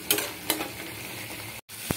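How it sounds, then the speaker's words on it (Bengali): Chicken in a tomato-chili paste fries in a pan, a steady close sizzle broken by a few brief stirring scrapes, with no talking. "যতক্ষণ না চিকেনটা ভেজে লাল হয়ে যাবে বা গায়ের থেকে তেল ছাড়বে, ততক্ষণ আমি এটাকে ভেজে নেবো ভালো করে"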